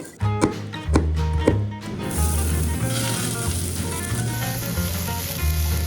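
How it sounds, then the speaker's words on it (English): Onions frying in a pan sizzle steadily and loudly for most of the stretch, after a few sharp taps and clatters at the start. "Onions smell so good when you fry them"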